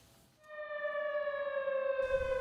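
A civil defense air-raid siren sounds in Ulleung, a steady wailing tone with strong harmonics that rises in after a brief quiet start and holds loud and continuous to the end.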